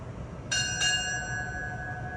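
A ship's bell rings out twice at a naval retirement ceremony, two clear metallic strikes in quick succession whose bright tone rings on and slowly decays in a quiet hall.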